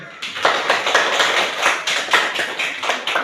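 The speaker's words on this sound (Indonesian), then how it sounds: "kita berikan tepuk tangan untuk pria pun" A class of children applauds during an Indonesian school lesson, a steady burst of many hands clapping close by, continuous and fairly loud for a few seconds, with no speech over it.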